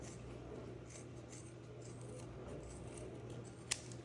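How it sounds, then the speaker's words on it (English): Scissors trim a foam pad for homemade bowling shoes, giving soft close snipping and rubbing against a low steady hum, with one sharp little click near the end. "So I'm gonna trim this one just a little bit."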